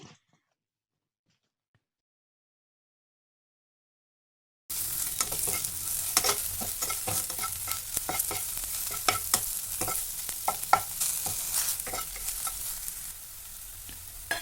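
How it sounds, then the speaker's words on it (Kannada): Food frying in a pan with salt and turmeric powder: a steady, close sizzle with stirring scrapes begins abruptly after a few seconds of silence and continues alone, with no talking. "ಈ ರೀತಿ ಫ್ರೈ ಆದರೆ ಸಾಕು"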